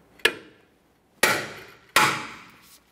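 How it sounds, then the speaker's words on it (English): Three sharp metallic hammer taps on a bit driver, spaced about a second apart, each ringing briefly before fading, loud and close with silence between, while replacing parking brake shoes on a Kia Forte Koup. "we're going to apply counterclockwise pressure and tap on it with a hammer"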